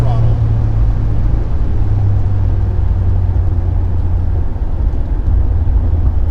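A turbocharged Fiat 124 Spider engine at wide open throttle, a loud, close, steady droning roar sustained throughout with no break, heard from inside the car, no talking.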